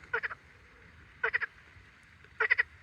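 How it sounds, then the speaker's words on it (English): Three short bursts of rapid frog croaking near water in Kyrgyzstan, each a quick cluster of three or four calls, spaced about a second apart over a faint low background. "Is that a frog or something?"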